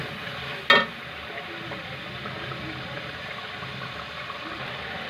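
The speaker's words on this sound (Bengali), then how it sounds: "মশলাটাকে ভালো করে কষিয়ে নেব" Spice paste being stir-fried in a pan for an aid fish dish with broad bean seeds, a steady low sizzle after one sharp clack of a utensil near the start, close by and alone.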